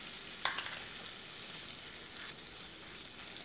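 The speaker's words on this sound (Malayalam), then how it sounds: "ഇനി ഇതിലോട്ട് നമ്മൾ എടുത്തു വെച്ചിട്ടുള്ള ചിക്കൻ ചേർത്ത് കൊടുക്കാം" Chicken added and stirred into tomato masala frying in a pan; a soft, continuous sizzle with one sharp clink of a utensil near the start, fairly quiet and without talking.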